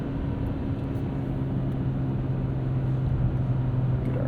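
A 2.5-litre engine in a 2023 Hyundai Santa Cruz pickup drones steadily from inside the cab, a low grainy hum holding an even pitch with a faint rise toward the end.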